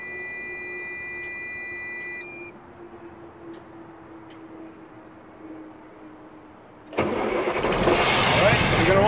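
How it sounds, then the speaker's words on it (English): Semi truck tractor engine cranking and catching, a quiet stretch with faint electronic beeps giving way to a sudden loud diesel roar that settles into a steady, close idle. "So we start the engine."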